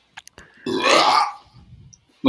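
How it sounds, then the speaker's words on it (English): Just after a drink of seltzer, one loud, aggressive burp rumbles close to the microphone for about a second, set between a few small clicks and quiet moments. "It was a loud burp. That was an aggressive burp."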